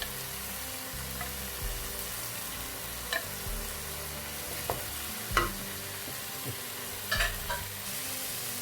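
Tuna pasta, already cooked, being stirred and sautéed in a pan: steady soft sizzle with scattered scraping clinks of a utensil against the pan, several sharper knocks spread through, no talking.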